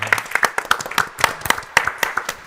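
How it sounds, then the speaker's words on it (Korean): A church congregation gives a short round of applause, distinct claps in a steady patter at close range, with no talk over it. "우리 한번 박수해 주시겠습니다"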